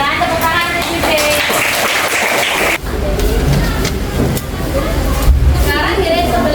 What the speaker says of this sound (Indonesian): Tepuk tangan untuk Dede